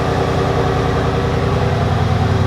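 Mercedes-AMG C63S engine idling close by, a steady low rumbling burble with even pulsing throb and no revving, constant in level throughout.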